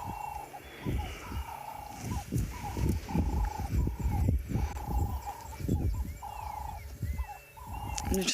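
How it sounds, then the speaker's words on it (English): Loud dawn chorus of birds on an African safari at sunrise, with repeated whistled calls and chirps layered over constant outdoor ambience, dense and close throughout. "I'm just going to sit here and listen to the bird calls."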